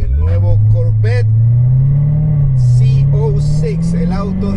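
A 2015 Corvette Z06 with an automatic transmission accelerates hard on a Nevada racetrack, its engine a loud, steady, rising roar that builds across the run while someone talks over it.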